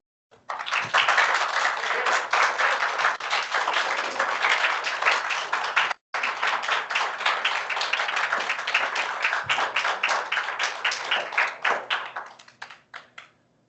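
Steady audience applause fills a council meeting room, dense clapping holding for about twelve seconds with a brief break near the middle before thinning out to scattered claps at the end.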